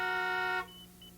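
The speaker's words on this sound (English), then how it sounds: "the horn will begin to honk 1 minute after the alarm has activated" A school bus horn, triggered by a Child Check-Mate alarm system, blares a steady loud honk for about half a second, then cuts off into quiet background hum.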